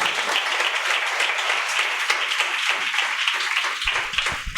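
A congregation at a fasting prayer meeting claps and applauds, a dense, continuous wash of hands filling the room throughout with no voices standing out.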